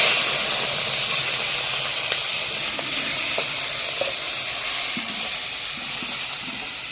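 Shrimp and raw peanuts frying in hot mustard oil: a steady, loud hiss and sizzle with faint crackles and pops running throughout, no talk.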